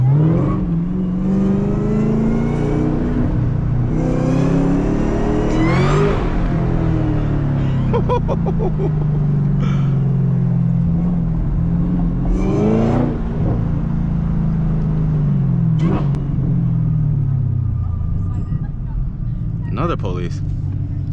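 Supercharged Camaro ZL1 engine revving and rising in pitch while driving, strong throaty surges building and easing, loud and close, with people talking over it throughout.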